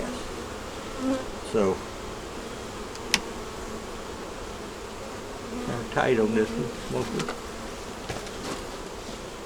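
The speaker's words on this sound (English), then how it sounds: "we got a lot of bees here on the side" Bees buzz around a beehive as a constant close drone, with individual insects swelling louder as they pass near, while a person speaks briefly over the humming.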